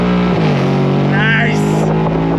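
A 2024 Ford Mustang GT convertible drives with the top down on a sunny day in Clearwater, Florida, its engine roaring loud and close under throttle with a rising pitch. A voice cheers over the start.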